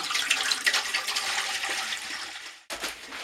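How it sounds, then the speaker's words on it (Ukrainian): Clean water pours steadily into a small pot with a rushing, splashy sound, breaking off briefly near the end before resuming. "У будь-яку підходящу ємність наливаємо чисту воду"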